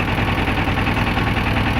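Engine of a small cargo boat, a steady droning rumble with a faint rhythmic throb, fairly loud and continuous with no voices.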